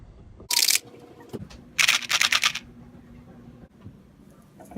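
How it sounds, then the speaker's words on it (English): A flathead screwdriver bit is tapped into a screw on a table hinge being repaired: one sharp close knock, then a quick run of about five taps, with no talking. "Here I'm starting the flathead bit by tapping it in."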